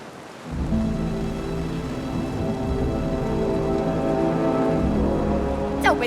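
Steady heavy rain pours down in a dense, continuous hiss, with a low rumble underneath and no voices.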